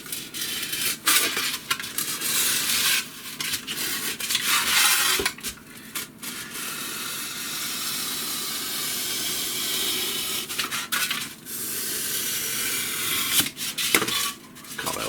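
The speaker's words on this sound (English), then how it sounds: "I'm just using a new blade in a craft knife. I'm going to cut round to start off with a bit of a tilt." A fresh blade in a craft knife cutting around a small 28mm jousting model part: close, scratchy, rasping strokes in uneven stretches, separated by brief quiet gaps and light ticks.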